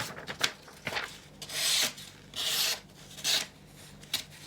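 A sharpened knife slices through paper in a few long, raspy strokes, each a dry scraping hiss, close up and separated by brief pauses.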